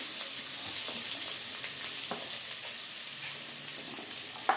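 Two large onions fry in heated oil for a chicken gravy, sending up a continuous close crackling sizzle with faint stirring scrapes and a sharp clink at the end.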